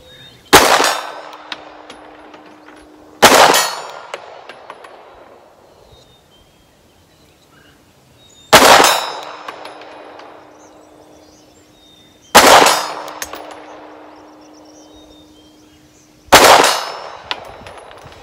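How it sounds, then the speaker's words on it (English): Five sharp, loud pistol shots from a Polymer 80 handgun at an outdoor target range, spaced several seconds apart, each a crisp crack with a ringing metallic tail fading into quiet. "Now I got five rounds here. Let's see how we can do just resting it at 50."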